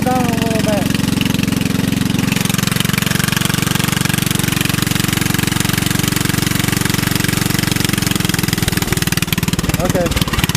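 A go-kart built from a lawnmower engine idles steadily and close up, a constant low rumble that holds evenly throughout with a slight change near the end.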